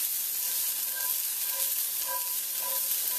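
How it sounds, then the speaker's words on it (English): Cauliflower and a little garlic sauté in grapeseed oil, giving a dense, even sizzle with faint crackles throughout and no voices. "We're going to saute up some of this cauliflower with just a little tiny bit of garlic."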